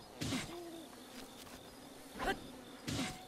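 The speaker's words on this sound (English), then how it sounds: "I don't even know why I'm attacking bees" Bees buzz in the game Zelda Breath of the Wild, three short buzzing swells rising and fading over a quiet backdrop, close and moderately loud, with no talking.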